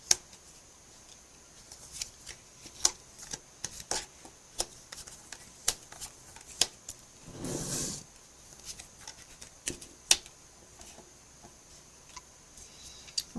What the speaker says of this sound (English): It's just really getting in the way of me laying out the cards.